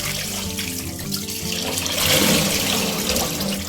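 Tap water runs steadily into a sink while fish coated in turmeric and vinegar is rinsed, a continuous splashing stream that grows slightly louder midway, with no voices.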